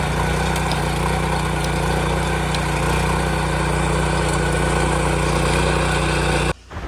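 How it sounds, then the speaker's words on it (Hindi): A steady, loud tractor engine idling and chugging continuously, then cutting off abruptly near the end. "गाइस, इस ट्रैक्टर को चलते हुए देखना बहुत सेटिस्फाइंग है।"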